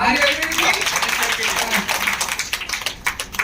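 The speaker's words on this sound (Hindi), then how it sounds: "जोरदार तालियां होना।" An audience at a business plan presentation claps loudly at first, and the clapping thins into scattered claps near the end.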